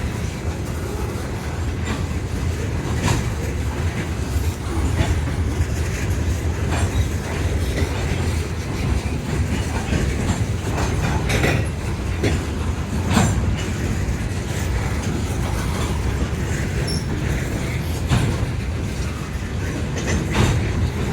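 A train switching in a rail yard in winter, a continuous rumble of rolling cars with repeated clanks and clicks of wheels over joints, steady and fairly loud throughout.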